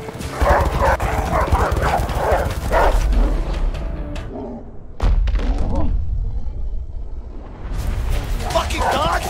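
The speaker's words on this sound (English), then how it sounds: "Fucking dogs!" Dogs bark and chase during a prison-break sequence in the video game A Way Out, with heavy thuds and running footfalls under loud shouting voices.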